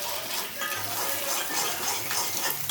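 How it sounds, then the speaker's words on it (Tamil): Egg and salt being stirred in a cooking pan, with soft scraping and a faint sizzle under a low, steady kitchen hiss; no one talks. "இது முட்டை போட்டு உப்பு தேவையான அளவு கிண்டி விட்டுக்கணும்."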